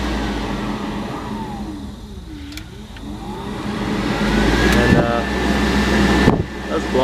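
Vintage Air aftermarket air conditioning blower running inside a 1984 Chevy K10 pickup cab, a steady broadband whoosh of moving air that swells louder partway through, with a few brief clicks and talk over it.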